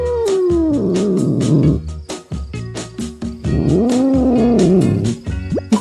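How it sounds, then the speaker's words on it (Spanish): A cat meows loudly and close, two long drawn-out wavering cries with short chirpy sounds between them, with no talking over it. "Oh, sí. Oh, gatito."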